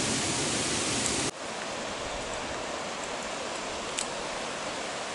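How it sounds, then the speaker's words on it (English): Grada Creek rushes through a narrow valley as a steady, close wash of flowing water, with a brief dip in loudness early on and no voices. "There's Grada Creek."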